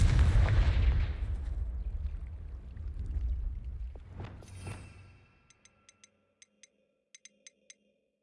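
A Confringo spell explodes in Hogwarts Legacy, a loud booming blast that rolls into a fading rumble over several seconds, followed by a series of faint, sharp clicking ticks.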